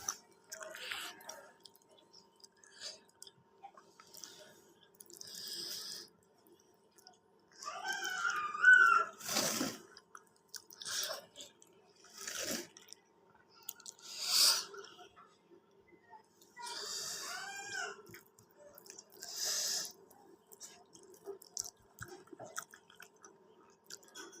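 Someone eating khichuri, a hot rice and lentil dish served with fresh mustard greens, on a cold day: close, soft chewing and mouth sounds come in short bursts with pauses, with no talk.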